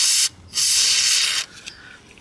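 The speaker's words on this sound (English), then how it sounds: "we're going to put some more lube up here" Spray lubricant blasting onto a transmission line fitting on a 2016 Ford F-150 XLT 5.0, in two loud, close bursts of hissing spray, the second longer, followed by a faint trailing hiss.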